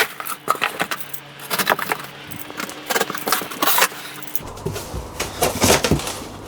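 Cardboard and plastic packaging of a DJI RS4 gimbal combo being torn and pried open with a bottle opener, a string of close, sharp crinkles, scrapes and clicks with brief pauses.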